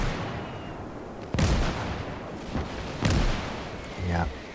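Gunfire in Call to Arms: Gates of Hell, a World War II skirmish in Finland: two sharp, heavy reports about a second and a half apart over a constant battle rumble, with a softer burst near the end.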